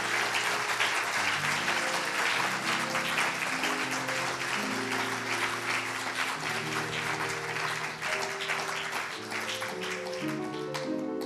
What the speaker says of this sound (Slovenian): Še en aplavz.